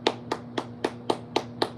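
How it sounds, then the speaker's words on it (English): Seven sharp hand claps in an even, steady rhythm, each a crisp close smack standing alone with no talk. "we're gonna go ahead and we're gonna clap for y'all this morning"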